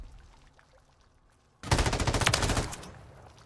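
Video game gunfire erupts after a quiet stretch with a sudden loud, rapid automatic burst lasting about a second before trailing off.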